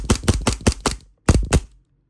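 An ICS Carnotaurus airsoft pistol fires five sharp, evenly spaced shots up close, then after a short gap two more quick shots, with no one speaking.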